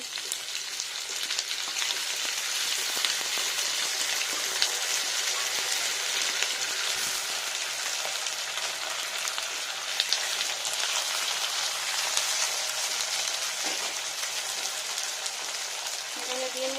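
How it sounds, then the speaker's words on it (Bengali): Vegetables with eggplant and washed moong dal fry in a pan over the large burner of a stove on full flame, giving a steady, dense sizzle and crackle that runs unbroken and fairly loud throughout. "এটা ওভেনের বড় চুলোটাতে হাই স্পিড মানে ফুল স্পিডে এটা ভেজে নিচ্ছি"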